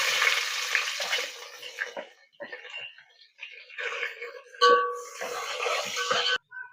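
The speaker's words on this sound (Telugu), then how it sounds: "ఉల్లిపాయలు అయితే వేగుతున్నాయి కదండి" Sliced onions fry in oil in a pan for mutton pulao, a close hissing sizzle broken by stirring scrapes, with short gaps and a louder burst near the end.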